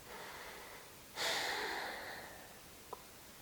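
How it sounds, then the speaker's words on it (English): A single deep breath drawn and released during a gentle yoga flow for the low back, a strong airy inhale swelling and then fading slowly over a couple of seconds, close and alone with a faint tap near the end. "2 deep breaths"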